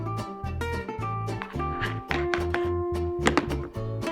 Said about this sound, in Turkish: Yıkadığımız domatesleri güzelce doğrayalım.